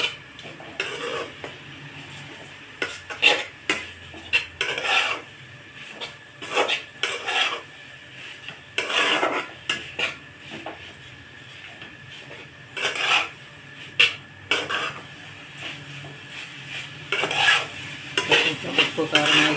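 Tomato and onion curry for black-eyed pea curry is stirred in a pan: a steady sizzle under repeated metal scrapes and clinks of a spoon against the pan, close and busy throughout.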